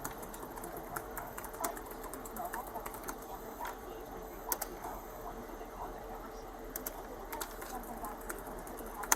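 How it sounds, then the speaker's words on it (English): Someone types on a computer keyboard during a police stop over a mask policy, faint scattered key clicks in irregular bursts over a low background hum; no clear talk. "you're typing."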